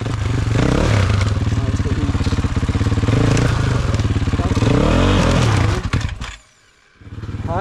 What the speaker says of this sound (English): I am not ashamed of letting the pro ride my bike up that section